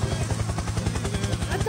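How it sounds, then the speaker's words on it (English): Rapid, rhythmic thumping of helicopter rotor blades in the Roblox video game, close and loud, with a voice shouting briefly over it. "Helicopter!"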